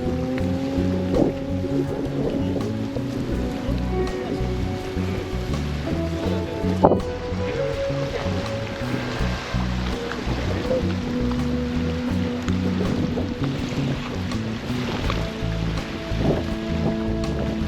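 A very small tour boat motors across open water near Ushuaia, its engine droning steadily and loudly throughout with splashing and wind noise layered over it.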